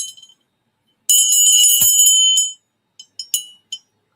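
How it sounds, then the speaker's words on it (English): A small vintage figurine bell, roughly 5 to 6 inches tall, rings loudly and bright for over a second, then gives several short, sharp dings with brief pauses between them. "it is a bell."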